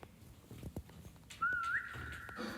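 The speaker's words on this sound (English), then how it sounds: "I'm just whistling." A person whistles a single rising, sustained tone, fairly close and clear, over faint background rustle and scattered light knocks.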